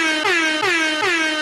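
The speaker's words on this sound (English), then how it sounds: "Only reason I'm hitting the air horn is I'd rather drown him out with noise than listen to that." An air horn sounds in three loud, sustained blasts back to back, close and bright, with no voices over it.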